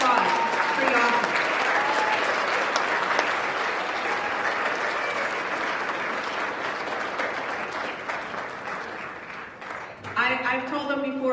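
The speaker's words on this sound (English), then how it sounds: "go ahead, round of applause" Sustained applause from a school assembly audience at a high school anti-bullying event fills the hall loudly and steadily, fading slightly before a speaking voice returns near the end.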